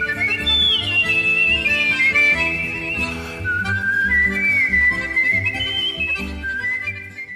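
Whistling at a wolf whistle championship in Ireland: sliding, wavering whistled tones rise and fall over several seconds, loud and prominent above a background music bed.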